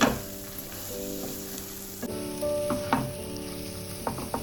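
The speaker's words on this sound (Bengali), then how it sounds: "আরও 1-2 মিনিট আমি এটাকে ভালো করে ফ্রাই করব।" Spiced masala frying in oil for a pomfret curry, a close, steady sizzle with occasional clinks and scrapes of a spoon stirring the pan, no voices.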